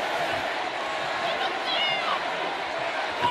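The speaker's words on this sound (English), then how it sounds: "Crowd's starting to rumble here in Buffalo." A wrestling arena crowd in Buffalo rumbles and murmurs steadily at a distance during a Raw match between Jerry Lawler and King Booker, with scattered shouts rising over the dense background roar.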